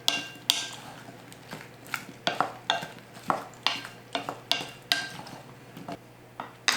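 Trimmed, washed Brussels sprouts are tossed in a pan to coat them, making a series of close, rhythmic clattering scrapes and knocks, roughly two each second, against a faint steady hum.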